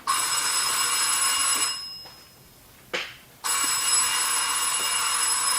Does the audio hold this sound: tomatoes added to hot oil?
no